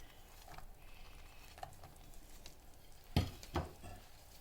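Nuts and semolina for jaggery suji halwa roast quietly in a pan, a faint continuous sizzle with soft stirring scrapes and two sharper knocks of the spoon near the end.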